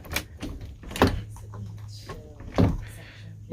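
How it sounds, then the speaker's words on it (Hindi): A bedroom door in a house opens with a couple of dull thunks and a latch knock amid soft handling noises, while a person talks nearby. "अगर बेडरूम का ये दरवाजा खोल ले"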